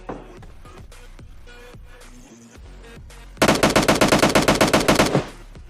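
In PUBG Mobile Lite, a rapid automatic burst of about fourteen loud, evenly spaced gunshots follows quieter game sounds and music.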